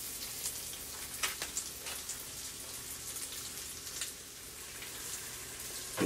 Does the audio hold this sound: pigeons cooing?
no